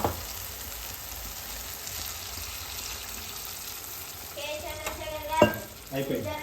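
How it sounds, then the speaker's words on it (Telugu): Water is poured into a pan of sizzling mutton keema ball gravy, a steady fry hiss giving way to bubbling splashes and a sharp burst near the end. "సో ఇప్పుడు దీంట్లో వాటర్ యాడ్ చేసుకుందాం."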